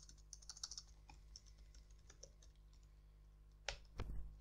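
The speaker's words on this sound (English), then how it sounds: "you can simply type" Fingers type a terminal command on a computer keyboard, a quick run of soft, close key clicks followed by a pause and two louder final keystrokes, like pressing enter.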